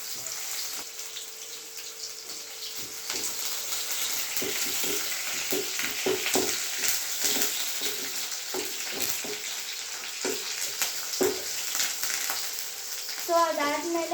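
Food frying in a pan until it browns, a continuous close sizzle with scraping stirring strokes and a brief splash of running water near the end.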